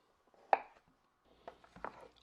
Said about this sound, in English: Now that cookie dough's nice and stiff, I'm cutting 2 rows of cookies.